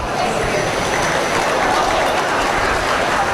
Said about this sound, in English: Let's give these kids a nice round of applause.